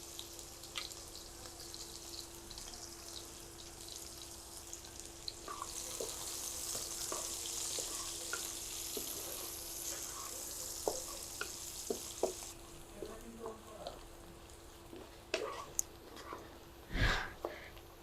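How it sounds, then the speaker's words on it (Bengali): Onions frying gently with cinnamon sticks and cardamom pods in a pan, a soft, continuous sizzle with faint occasional stirring taps and pops, swelling briefly in the middle before a sharper clatter near the end. "পেঁয়াজটা ভেজেছি, আর ভাজা লাগবে না, একটু কালারটা চেঞ্জ হলে হবে"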